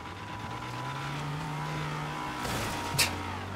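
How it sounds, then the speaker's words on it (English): A rear-wheel-drive Rapid GT and an all-wheel-drive Stratum racing in GTA 5, a steady engine drone with a rising tone, a brief swell near the end and a short sharp knock, no talk. "rear-wheel drive Rapid GT against an all-wheel drive Stratum"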